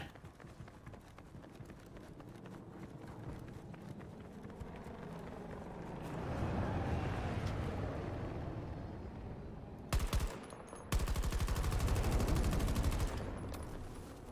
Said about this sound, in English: I don't know why I'm shooting at that.